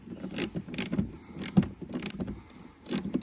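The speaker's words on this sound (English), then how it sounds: "we have a 10mm bolt. So we're gonna go ahead and remove that" Close mechanical clicks and light metallic rattles as a 10mm bolt is worked loose from a Tesla Model X door panel, with several brief ratcheting bursts spread through the quiet.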